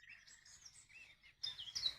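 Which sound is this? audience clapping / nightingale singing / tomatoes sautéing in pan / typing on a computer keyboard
nightingale singing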